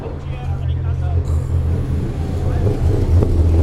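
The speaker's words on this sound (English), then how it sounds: "That's it, that beautiful Z4 just walking in behind me." A BMW Z4 race car rolls down the pit lane at an Extreme Super Cars qualifying session, its low engine rumble steady and close under crowd babble and someone talking.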